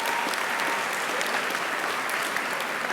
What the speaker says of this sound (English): Would you give student government from both years a round of applause?